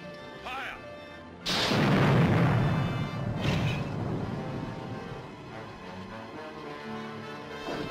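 A ship's cannon fires at another ship's sails in a 1950 pirate film scene, one loud booming blast with a long rumbling decay, preceded by a faint earlier report and followed by another thud and lingering battle noise.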